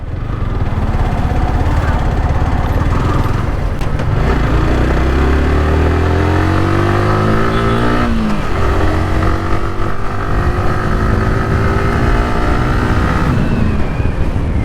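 Yamaha R15 V4 motorcycle ridden and turning, a loud steady engine drone heard from on board with rising and falling pitch as it changes speed, plus strong wind rush throughout.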